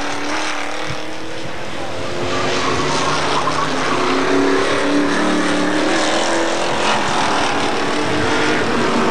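Hotstox race cars lapping the Buxton oval during a heat, engines droning loudly and steadily throughout with a rising, overlapping roar as several cars pass close by.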